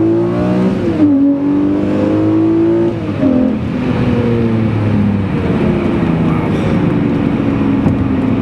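A Lamborghini Murcielago with a 12-cylinder engine accelerates hard from inside the car, a loud, dense engine roar climbing in pitch through each gear, with a brief dip at a shift around the first second and another near the third.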